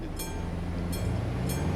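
A train passes in the video game Euro Truck Simulator 2, giving three evenly spaced sharp rail clacks over a constant mechanical rumble.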